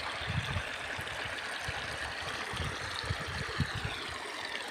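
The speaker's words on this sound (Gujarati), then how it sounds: "ખળખળ ઝરણા વહે છે" A forest stream flows steadily with a continuous rushing, gurgling wash where fish are being fed, close and unbroken throughout.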